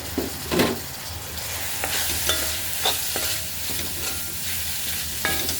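Ground spices — coriander, black pepper, chilli and chicken masala powder — sauté in a pan with tomato, giving a steady sizzle broken by repeated scrapes and stirs of a spoon, close and moderately loud, with no talking.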